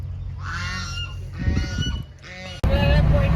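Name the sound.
ducks quacking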